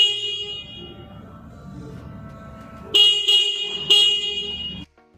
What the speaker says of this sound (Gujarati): હોર્ન ચાલુ કરીને બતાવો મિત્રો કેવો અવાજ આવે છે હોર્નનો